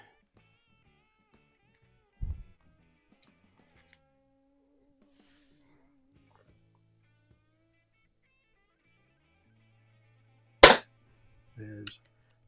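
Daisy model 62 underlever pellet pistol firing 7-grain Meisterkugel pellets: a few sharp, short snaps spaced far apart, with near silence between them.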